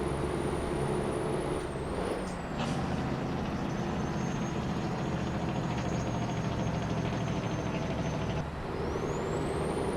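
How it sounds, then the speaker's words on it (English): Freightliner Classic XL truck in Euro Truck Simulator 2 with the engine brake engaged, a loud, constant low rumbling drone with a whining high tone and a brief dip and shift midway. "We'll give it a bit of engine brake as well down here too."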